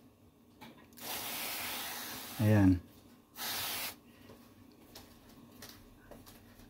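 Avocado oil cooking spray hisses from a can in two bursts about a second long each, close and fairly loud, while a person speaks briefly.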